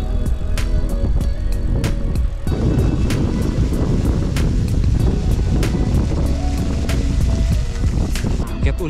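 Strong wind roars steadily and loudly across the microphone while cycling in Doha, a constant buffeting rumble with occasional faint clicks.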